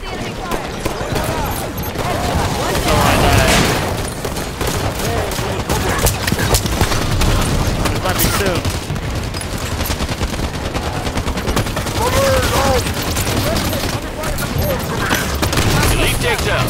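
Enemy gunfire in the shooter game Halo 5: Guardians rattles in dense, rapid bursts and overlapping volleys that keep going the whole time, with voices talking over and between the shots.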